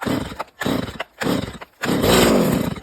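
A petrol chainsaw is pull-started, giving three short rough bursts of the engine with gaps between them. It then catches and roars loudly and steadily close by.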